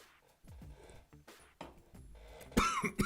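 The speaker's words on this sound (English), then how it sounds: "I got a cough." A few short, harsh coughs, close and spaced out, then a louder hacking cough near the end.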